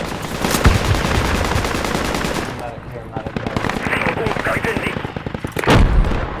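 Gunfire in the military shooter Project Reality during a firefight, with rapid machine-gun bursts and loud single shots booming throughout, some close and sharp, others rolling and distant.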